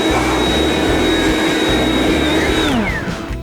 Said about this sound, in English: Give me the blower.